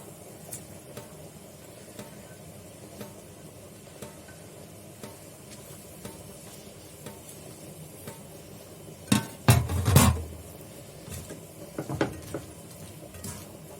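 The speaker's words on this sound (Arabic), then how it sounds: "معانا بقى البصله اهي بقت صفرة، هننزل عليها بقى باللحمه" Raw meat tipped into a pan of oil and golden browned onions, stirred with a utensil while cooking for Egyptian béchamel pasta; a quiet bed of sizzling with a short burst of loud clattering and scraping near the middle, then softer stirring clinks.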